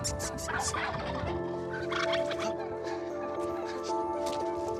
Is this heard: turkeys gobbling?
yes